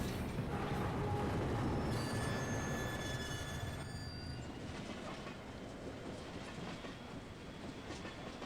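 A train in the video game Castlevania: Lords of Shadow 2 rumbles loudly and steadily with rolling mechanical clatter and brief metallic squeals, a continuous heavy ambience without speech.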